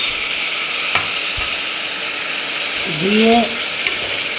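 Carrots, peas, tomatoes and chopped green chillies stirred in a pan, with a steady sizzle under soft scraping and a couple of spoon knocks; a voice speaks briefly near the end.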